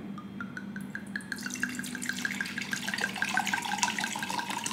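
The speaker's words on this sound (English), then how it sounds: "I'm going to pour myself a glass of wine early" Wine poured into a large glass, a steady trickling stream that rises in tone as the glass fills, close up and alone, with no voices.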